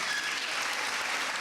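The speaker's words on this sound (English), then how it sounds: "Can we give them a round of applause?" Audience at a U.S. Embassy public forum on the 2016 presidential election breaks into sustained applause, a dense steady clapping that fills the whole short stretch with no talk over it.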